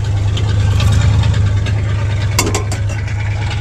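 An old engine, just repaired, runs steadily at close range with a low, even rumble and a brief clatter partway through.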